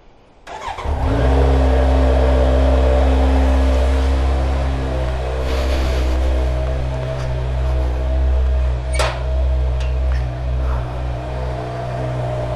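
A Kawasaki Z900 motorcycle engine cold-starts and settles into a loud, steady idle close by, with a few sharp rev blips partway through and a continuous deep rumble throughout, no talking.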